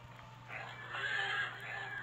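A horse whinnies in a wrestling-style video game, a drawn-out neigh over a steady low electronic hum, moderately loud and with no talking.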